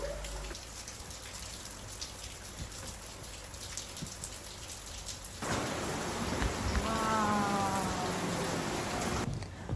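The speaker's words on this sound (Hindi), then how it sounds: "आज के दिन का आगाज़ हुआ है ज़बरदस्त किस्म की बारिश से।" Heavy monsoon rain pours steadily outdoors, a dense hiss of drops on surfaces that grows noticeably louder and closer halfway through, with faint rumbling underneath and no voices.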